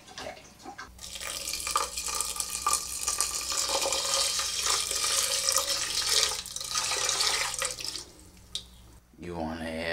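Tap water runs steadily into a sink over rice being rinsed to wash off the starch, a continuous close splashing hiss that stops abruptly near the end, when a voice briefly speaks.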